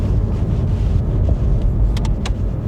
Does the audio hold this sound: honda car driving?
yes